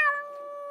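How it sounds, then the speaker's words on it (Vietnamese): A black cat meows once, a clear harmonic cry up close that holds steady and fades slightly toward the end, alone with no other sound. "Một con mèo đen xì, tai dài, mõm dài, đuôi dài, đang ngồi chồm chổm trên xà nhà nhìn ông Phúc"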